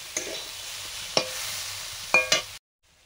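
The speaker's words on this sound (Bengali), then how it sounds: "সেদ্ধ করা ডাল, একটু নাড়বো" A spoon stirs boiled dal in a pan during home cooking, giving a few sharp scraping clicks over a steady low sizzle for about two and a half seconds, then it goes silent.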